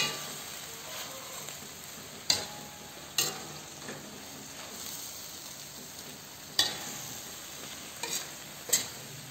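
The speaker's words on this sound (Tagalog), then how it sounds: "Haluin lang natin yan." Sprouted mung beans and pork stirred in a hot pan, with a steady sizzle underneath and several sharp scraping clanks from the utensil against the pan at irregular intervals.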